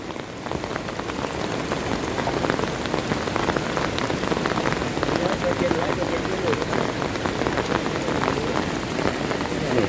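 Heavy rain pours down steadily and loudly for the whole stretch, a dense, unbroken hiss of drops drumming on surfaces.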